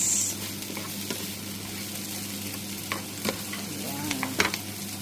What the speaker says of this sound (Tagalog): So ito ang gagawin ko na lang, patambutin muna natin yung carrots.